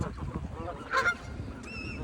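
Birds being fed by hand give a single brief honk near the middle over a rumbling, noisy outdoor background.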